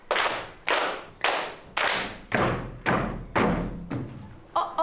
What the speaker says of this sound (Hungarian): Tapsold, és kopogd el.